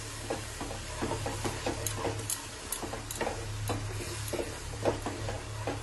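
Spice paste for chitol fish kalia sautéing and being stirred in a pan over very low heat, a steady soft sizzle broken by repeated scraping strokes of the spoon, with a low hum running underneath throughout.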